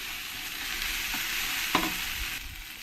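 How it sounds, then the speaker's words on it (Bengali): Whole spices, ground spices and chili powder being sautéed in a pan for jackfruit kalia, producing an even, close hiss of frying with a single clink of a spatula midway, without speech. "লঙ্কার গুঁড়ো দিয়ে ভালো করে আমি এই মশলার সঙ্গে কষিয়ে নেবো"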